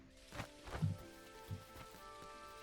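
Rain falling in the video game Dinkum, a soft, even patter with a few faint thumps, quiet and steady throughout.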